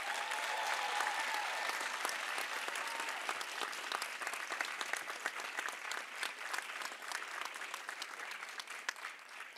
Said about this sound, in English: One more round of applause for our recruits.